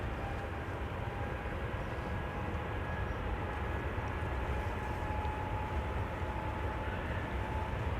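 A Boeing 787-10 takes off from the Polderbaan runway at Schiphol, giving a steady, dense engine roar with a faint high whine that persists unbroken throughout.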